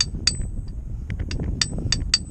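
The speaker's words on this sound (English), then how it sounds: "I'm going to use an extension bar and just a really small hammer" Light metallic taps ring out irregularly as a small hammer gently taps an extension bar to seat a Ford Fiesta Mk6 transmission oil seal, a handful of small, crisp clinks spaced apart over a quiet background.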